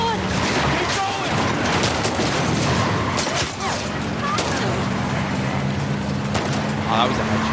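Gunfire bursts in The Last of Us Part II, sharp shots scattered over a dense, steady backdrop of engine and water noise, with voices talking throughout.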